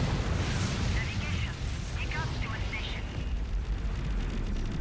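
Armor breaker and plasma missile weapons fire in the space combat game Fractured Space, a dense, loud rumbling blast that holds steady across the whole moment with faint chirping tones layered on top.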